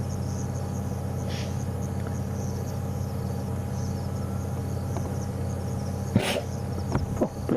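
A single short sneeze bursts out once during a safari drive in the bush, set against a steady vehicle engine hum and a constant buzz of insects.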